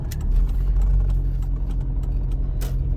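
A car pulling away from the kerb during a driving exam, its engine a low steady hum close by with faint clicks over it and no voices.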